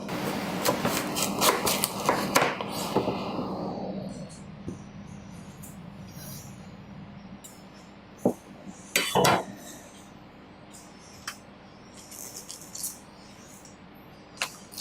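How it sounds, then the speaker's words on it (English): A knife knocks against a board while cabbage is coarsely chopped for kimchi, with a quick run of sharp close strikes at the start, a quiet stretch, then another short burst and a few isolated taps. "I'm going to coarsely chop them"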